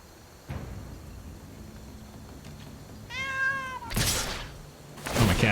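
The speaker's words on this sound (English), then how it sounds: "Oh, my cat wants attention." A house cat meows for attention indoors, with a couple of clear, tonal meows rising near the microphone after a soft thump, followed by louder rustling and bumping.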